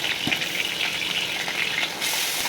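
Chopped onions, green chilies, ginger and garlic fry in a pan for a Bengali chicken dish, giving a steady, close sizzle and crackle that carries on without pause and with no talking.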